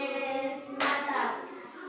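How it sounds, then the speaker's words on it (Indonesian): Students in a classroom give a brief round of clapping for a student group, the hands rising suddenly and fading after about a second, with talk just before. "mari kita berikan tepuk apresiasi untuk kelompok Gacok"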